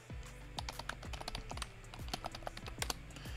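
Rapid typing on a computer keyboard during a netcat client-server lab, a close, clear burst of irregular key clicks and taps with no talking.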